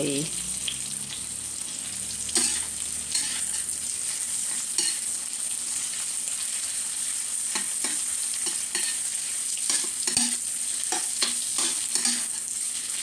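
Thai Ubon-style pork sausage, moo yor, frying in a pan with a continuous close sizzle, occasional clicks and scrapes of a utensil against the pan, and no clear voices.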